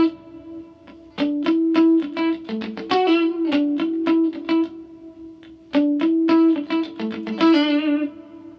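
An electric lead guitar plays the chorus tag of a song, with a quick run of plucked notes over a held low drone, a distorted, effects-laden tone with light reverb, loud and alone.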